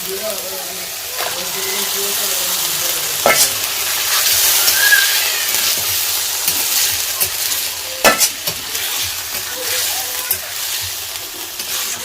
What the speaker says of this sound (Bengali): এর মধ্যে এবার দিয়ে দেবো ম্যারিনেট করা চিকেনটা।